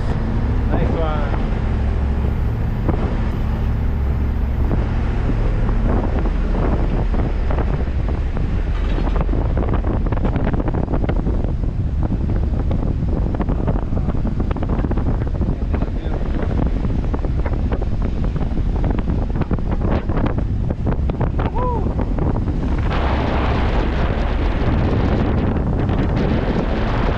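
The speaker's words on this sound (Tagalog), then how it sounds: "Lakas ng hangin." Strong wind gusts outdoors near a boat at sea buffet the microphone in a steady, loud roar, with engine or water rumble beneath and voices talking now and then.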